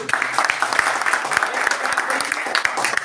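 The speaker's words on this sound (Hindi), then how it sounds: "तो इन सब युवा साथियों के लिए एक बार ताली बजनी चाहिए।" Villagers clap together at an outdoor rural gathering where free medical kits are handed out, a brisk, steady burst of many hands applauding close by for the full stretch.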